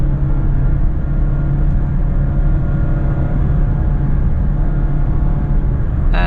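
A 2021 Mazda MX-5 Miata RF with a 6-speed manual cruises on the highway, its loud, steady engine and road rumble droning on without a break.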